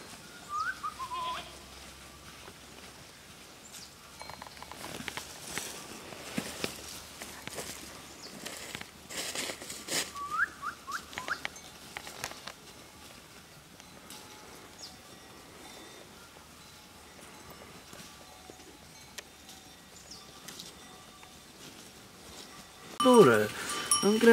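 Sheep bleat now and then across a farmyard, with scattered shuffling and footsteps, a few distant calls, and a louder burst of bleating near the end.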